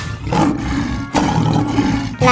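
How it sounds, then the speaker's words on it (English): A lion roars in loud, rough bursts, two long raspy roars separated by a brief breath, close and powerful, with the start of a third at the end. "Lion."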